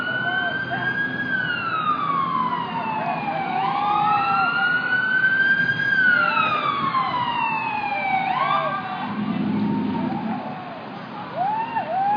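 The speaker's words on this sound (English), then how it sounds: "We got sirens and a fire truck here." A fire truck siren wails loudly in Hawaii, sweeping up and down in long repeated cycles over steady traffic rumble.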